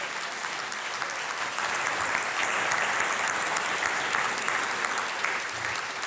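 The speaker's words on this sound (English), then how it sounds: "I think she deserves a special round of applause" Steady, even applause from an audience at an evening sporting celebration, continuous clapping at moderate level throughout with no pauses.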